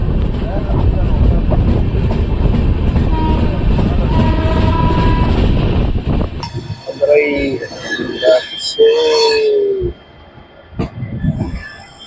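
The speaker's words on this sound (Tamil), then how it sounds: "அரியலூர்லேருந்து ட்ரெயின் கிளம்பிடுச்சுங்க" A passenger train departing Ariyalur rumbles and clatters steadily for several seconds, then the noise drops away as people begin talking nearby with some squealing metal sounds.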